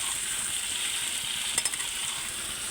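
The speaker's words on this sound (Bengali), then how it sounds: "এবার এই পোস্তটা দিয়ে ভালো করে নাড়িয়ে নেবো" Poppy seed paste is stirred into white potatoes in a frying pan, a steady close sizzle broken by a short cluster of spatula scrapes midway, with no talking.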